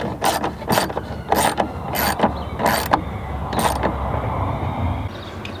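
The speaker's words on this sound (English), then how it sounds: "So I'll unbolt it again." Six loud, close bursts of ratchet clicking as a bolt is unbolted during a K&N cold air intake install on a 2007 Chevy Trailblazer, evenly paced strokes over a steady background hum.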